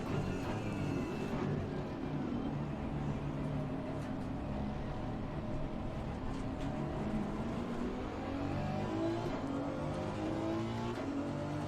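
A Honda NSX race car engine drones steadily in Assetto Corsa Competizione, a sustained buzzing roar with shifting pitch as it revs through gears amid other race cars on track.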